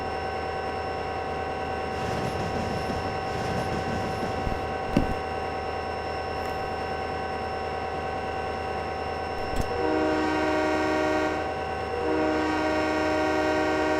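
A loud, sustained train horn in the video game Trainz 2010 blares almost continuously with a steady chord tone, the pitch briefly shifting near the end.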